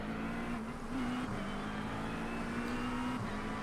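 McLaren race car engines in an iRacing video game at the start of a race, a steady loud buzzing drone with slight pitch shifts, alone.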